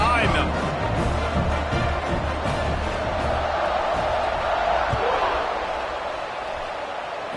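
A football stadium crowd roars at kickoff on a slick, treacherous field, a broad, distant, continuous wall of cheering that holds steady and then eases slightly, with voices mixed in.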